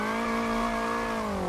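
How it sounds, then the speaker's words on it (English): A car's supercharger in BeamNG.drive emits a sustained, loud, close-up high-pitched whistle over the engine note, holding steady and drifting slightly lower in pitch toward the end. "that supercharger whistle"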